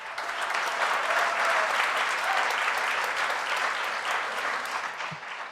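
A live comedy debate audience in Toronto claps steadily and densely for several seconds, a full roomful of hands that tapers off slightly at the end.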